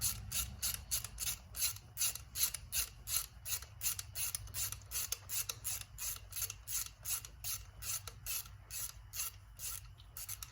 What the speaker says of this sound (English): always a good idea to torque your spark plugs.